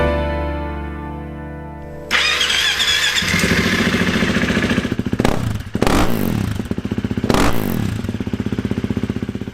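A 2017 KTM EXC-F 350 dirt bike starts up after a brief tonal whine, then idles loudly and close by, with two sharp throttle blips in the second half.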